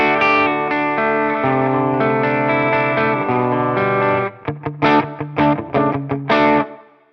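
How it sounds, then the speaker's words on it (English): Electric guitar with a humbucker through a Fender Deluxe Reverb amp on its clean channel rings out with a warm, slightly gritty tone, sustained strums giving way to choppy, staccato hits near the end. "let's hear the Fender Deluxe Reverb clean"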